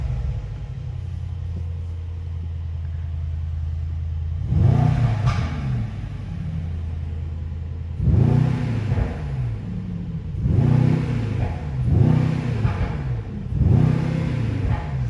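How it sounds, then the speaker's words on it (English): A 2021 Mercedes-AMG E63 S sedan engine idles with a deep, steady rumble, then is revved in a series of sharp, rising blips that fall back each time, four or five bursts against a limiter, close and loud with no talk. "So now I will be demonstrating you the sound of the E63 S."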